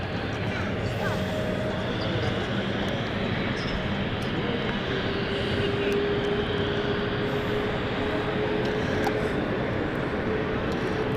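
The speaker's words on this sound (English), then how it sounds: "This is the Dash 8 coming in." Luxair Dash 8 turboprop airliner approaching to land at London City Airport, a steady distant engine drone with a faint sustained tone, heard continuously at moderate level.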